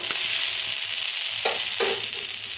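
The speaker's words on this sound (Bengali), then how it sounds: "এতে সেদ্ধও হবে, ভাজা ভাজাও হবে। এগুলো সব কষানো হয়ে গেছে, একেবারে তেল বেরিয়ে গেছে।" Vegetables for a spice-free bata fish curry sizzle steadily in hot oil in a pan, a continuous close frying hiss with a couple of soft stirring scrapes partway through.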